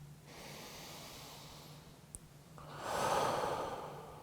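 Breathing held in a yoga pose: a slow inhale, then a fuller, louder exhale near the end, close-miked over a faint steady hum, with no talk.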